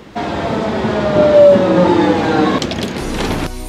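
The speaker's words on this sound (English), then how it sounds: "Taking the tram feels so old school" A tram rolls along its rails on a Saturday, a steady loud rumble with a high squealing tone from the wheels, then a brief clatter and shift near the end as the ride continues.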